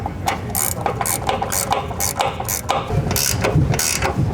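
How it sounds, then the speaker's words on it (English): A 21 mm ratcheting wrench tightens the upper nuts on a 3-inch lift kit for a 2020-or-later GM 2500 truck. It gives rapid, steady clicking bursts in repeated strokes, close and loud, with no talk. "grab your 21 ratcheting wrench again and tighten these upper nuts"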